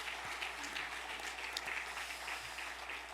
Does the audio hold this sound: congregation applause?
yes